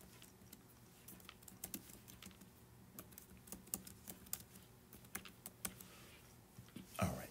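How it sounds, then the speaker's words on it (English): Typing on a computer keyboard, with irregular bursts of soft key clicks, fairly quiet and close, over low room hum; no talking. "if you heard a pause, that was me typing"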